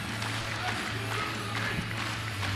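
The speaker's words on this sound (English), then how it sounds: "the crowd is starting to get loud now" Crowd at the 2018 World Open Equipped Powerlifting Championships builds noise before a 370 kg world record squat attempt, giving a steady, moderately distant roar with scattered claps and shouts.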